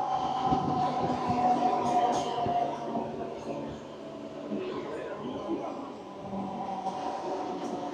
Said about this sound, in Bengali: যাত্রাপথের 69 কিলোমিটার পথ অতিক্রম করে ট্রেনটি তার পরবর্তী হল্ট ঝাঁটি পাহাড়ি স্টেশনে দাঁড়ালো